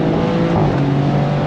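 A 2024 Maserati GranCabrio Trofeo engine roars close by, a steady, loud mechanical drone as it accelerates.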